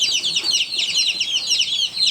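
Day-old baby chicks chirp continuously in a brooder, a dense, loud chorus of high overlapping peeps with no pauses.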